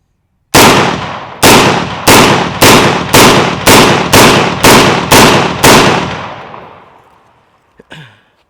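An AR pistol with a 7.5-inch barrel fires 7.62x39 rounds: ten loud, sharp shots in a quick, steady rhythm, each with a ringing tail. The echo fades out and a faint metallic clink follows.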